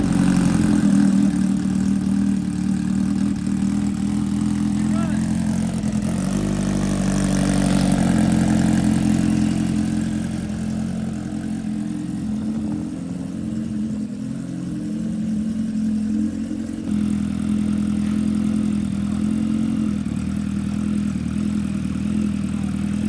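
A vehicle engine, apparently a motorbike or similar being ridden, runs steadily at idle throughout its first startup, with a low continuous rumble and a brief rise in revs partway through, close and loud, no talking.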